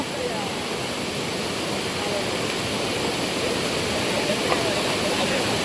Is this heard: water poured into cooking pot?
yes